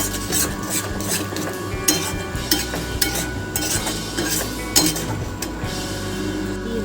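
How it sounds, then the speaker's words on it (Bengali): A spoon works salt and turmeric into a mashed ridge gourd paste, giving a steady, close scraping and stirring with soft, thick rasps and a few sharper clinks against the bowl. "এবার নুন হলুদটা ভালো করে মিশিয়ে দেবো।"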